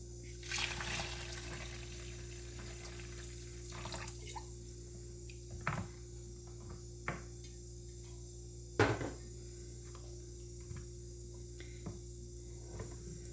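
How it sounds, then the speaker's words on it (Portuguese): Hot water trickles into cassava flour dough in a kitchen. The soft, steady pouring sits under a constant background hum, with scattered faint clicks and knocks. "aqui agora, a gente vai adicionar a nossa água, tá? Lembrando que a nossa água, ela está quente."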